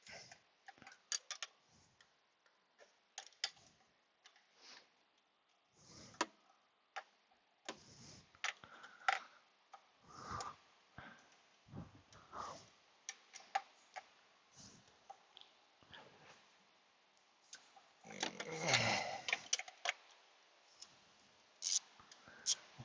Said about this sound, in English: Let's try one of these gear wrenches. They're a little bit shorter of room, and we can angle the ratchet